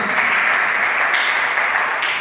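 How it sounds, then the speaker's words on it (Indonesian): A church congregation during a Sunday sermon breaks into steady, dense applause, loud and continuous throughout without a break. "Berikan tepuk tangan dulu bagi itu."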